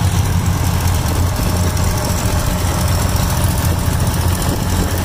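A WD-45 tractor engine runs steadily while plowing soil in a field, a loud, continuous low throbbing rumble with no break or pause.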